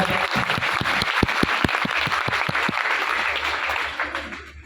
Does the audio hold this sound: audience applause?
yes